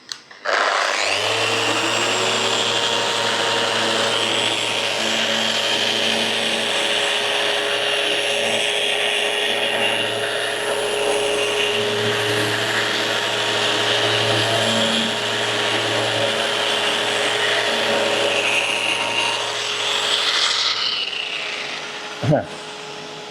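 Aggressive power sanding across a kitchen benchtop, a steady loud motor whine with a grinding abrasive rasp that holds for about twenty seconds before cutting off abruptly, with no talking.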